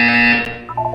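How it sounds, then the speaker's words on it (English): A short electronic buzzer tone from the Portal 2 video game rings out loud and sustained for about a second, steady and harsh, then tails off with a faint tonal blip at the end. "When you hear the buzzer, look up at the ceiling."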